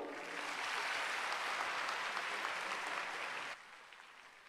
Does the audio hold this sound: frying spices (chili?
no